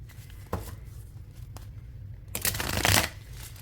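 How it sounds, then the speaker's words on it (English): A deck of lilac and cherry cards being shuffled together, a few quick riffles and taps close up, ending in a longer, louder riffle burst. "we're gonna shuffle it really good"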